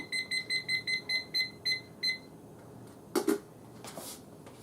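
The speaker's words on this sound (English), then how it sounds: "Set my timer for 8 minutes so I can check them." A kitchen timer set while chocolate chip cookies bake beeps in a steady run of about nine short, bright double pulses, then stops, followed by a couple of brief clatters nearby.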